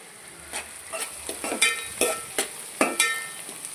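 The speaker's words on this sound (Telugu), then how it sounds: "ఆనియన్స్ బాగా వేగాయండి" Onions frying in a pan for mutton curry, a steady sizzle with repeated stirring scrapes and soft clinks coming through at close range, with no voices.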